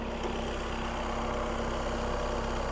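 A 2020 VW Crafter van's 2.0 TDI 130 kW diesel engine idles with the hood open, a steady low rumble with a fine, even rhythmic clatter, close and unbroken.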